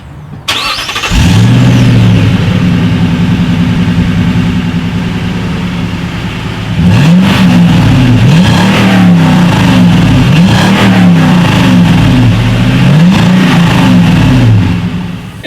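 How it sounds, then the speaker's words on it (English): Exhaust of a 2018 Toyota Sequoia with a single rear outlet: the engine starts, idles loudly and close, then is blipped through several rising and falling revs before settling back to idle. "So as always, you guys, here is that exhaust clip."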